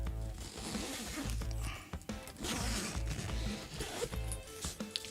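Zipper on a pocket of an Alpha Backpack Air 25L camera backpack being pulled open, a ragged buzzing rasp with handling rustles, fairly close and steady, faint speech underneath.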